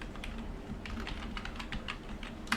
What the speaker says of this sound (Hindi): नेम में जैसे यहाँ पे अमित टाइप कर दिया